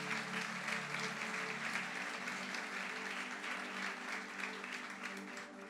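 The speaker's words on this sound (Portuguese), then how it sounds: "Aplauda al Señor." A church congregation clapping in praise during a worship service, sustained full-room applause with a faint tonal hum beneath, steady and even from start to finish, no voices on top.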